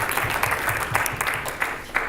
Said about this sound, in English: Could we get a round of applause just for everyone?